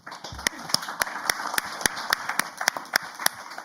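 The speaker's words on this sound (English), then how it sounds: "I think we can applaud already" Sparse, evenly spaced claps ring out, a slow handful of people clapping at a conference talk on ocean-based carbon dioxide removal in a quiet room with a faint background hum.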